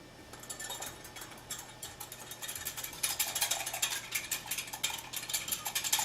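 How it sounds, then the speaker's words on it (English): A whisk beats flour into a milk sauce for comfort food, a quick metallic clicking and scraping in the pot that grows louder and more rhythmic after a few seconds, with no talk. "What we're just going to do is whisk this."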